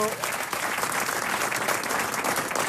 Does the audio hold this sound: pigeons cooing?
no